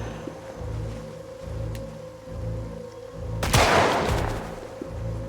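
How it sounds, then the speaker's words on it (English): A single gunshot in a zombie survival story cracks out as a sharp, loud broadband burst against a steady low droning background, with no speech. "So Aubrey shot him too."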